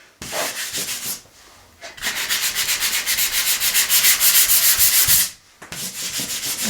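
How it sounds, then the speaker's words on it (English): Wood is sanded by hand during a bathroom renovation, a loud, close, rhythmic rasping in long rubbing strokes that pause briefly twice before starting again. "Just to sand it down a little bit."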